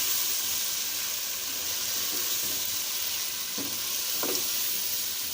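Chicken fries with black pepper and salt in a pan, a constant close sizzle and hiss with a few faint stirring scrapes near the end.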